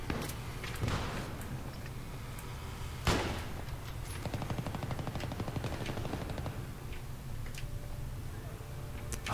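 Battlefield 3 Conquest match on the Seine Crossing map, with SV98 sniper rifle and M240B machine gun in play: sharp gunshots and bursts of rapid automatic fire, a big blast partway through, over steady battle noise.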